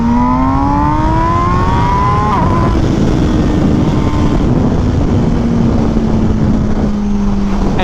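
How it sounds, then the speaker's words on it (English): An MV Agusta Brutale naked motorcycle on its stock exhaust roars loud and close, its engine note sweeping up through the revs and then holding a steady, droning tone as the bike rides on, with no voices. "And I see it again, not bad for a stock sounding bike."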